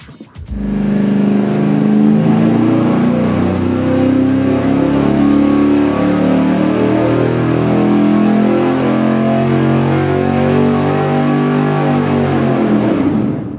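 A V8 engine revs hard on a dyno during a tune-up pull, a loud, close, sustained roar that climbs steadily for over ten seconds before cutting off, with no voices over it.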